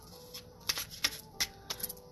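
Tarot cards being shuffled give quick papery riffles and soft slaps, several short bursts spaced unevenly over a couple of seconds, close and fairly quiet.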